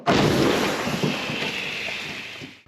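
A single heavy boom from a Ukrainian artillery gun at the start, followed by a long rumbling roar and wind noise that slowly fades out.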